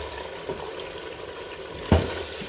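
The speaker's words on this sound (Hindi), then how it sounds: "अब गोश्त को 5 से 10 मिनट के लिए अच्छे से भूनेंगे।" Mutton pieces fry in a pot for biryani, giving a soft steady sizzle with a sharp stir or clunk near the end, close and quiet with no talk.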